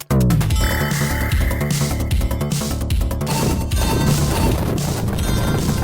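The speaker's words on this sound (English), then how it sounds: "I love the explosions, because they've got that Mega Drive explosion" Retro Mega Drive–style video game explosions from the Tanza Kickstarter trailer: loud, crunchy digital booms and crashes repeating in quick succession over chiptune-like music, filling the whole stretch.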